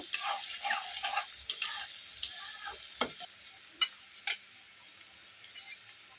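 Chopped onion frying lightly in a pan for Delhi-style bhuna keema gives a steady close sizzle, broken by scattered sharp clicks and scrapes from stirring, with no talking.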